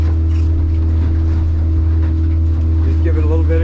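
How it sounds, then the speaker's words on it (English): The main motor of a Hewescraft 220 Ocean Pro boat runs on the water as a loud, steady, low-pitched engine drone, with faint higher tones rising briefly toward the end. "You can start up the main motor again,"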